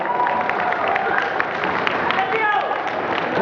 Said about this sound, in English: Give the mother a clap as well.